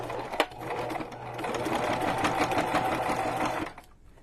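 A sewing machine in poor condition, noisy and rattly, runs a short burst of stitching through a junk journal cover, close and loud with a rapid mechanical whir that starts and stops abruptly.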